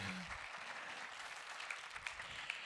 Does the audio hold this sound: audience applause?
yes